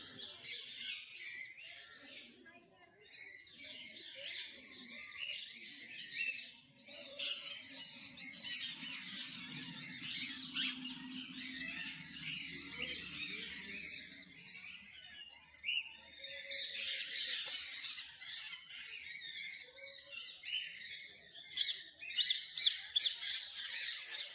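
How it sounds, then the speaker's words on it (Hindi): Military macaws, two pairs perched in an enclosure at Kanpur Zoo, give continuous harsh squawks and chirping calls, with other birds chattering around them and a voice talking underneath for a stretch. "मिलिट्री मकाऊ, देखिए यहाँ पर दो कपल बैठे हुए हैं, किस प्रकार से अपना गुटरगू कर रहे हैं।"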